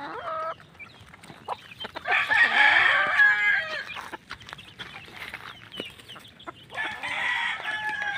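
Young chicks feeding at a trough, a rooster crowing in two long calls near the start and end amid clucking and soft pecking taps, moderately close.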